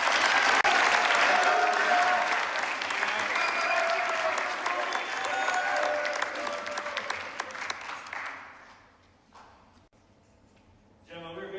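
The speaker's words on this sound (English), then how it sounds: "more round of applause, please." Sustained applause from an awards ceremony audience fills the room for about eight seconds, a dense crowd of clapping that then fades out to near quiet.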